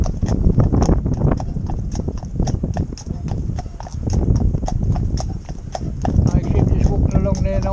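A horse walks along a road under a speed limit, its hooves clip-clopping in a steady, even rhythm close by, with voices talking over parts of it.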